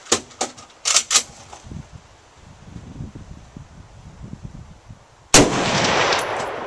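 Gunfire from a handgun being shown off with its ammunition outdoors: a few sharp cracks early on, scattered rustling and movement after, then a final loud blast with a lingering rumble.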